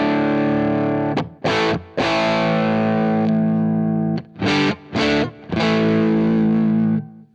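Electric guitar played through a Pettyjohn Chime MKII pedal with the high-pass filter rolled off, loud distorted sustained chords separated by short choppy stabs and brief silences.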